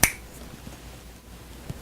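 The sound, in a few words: finger snap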